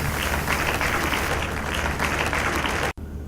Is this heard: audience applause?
yes